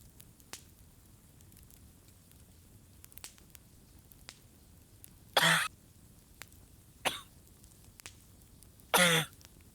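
Three sharp, loud coughs burst out at irregular intervals over a quiet background, with faint throat sounds and small clicks between them.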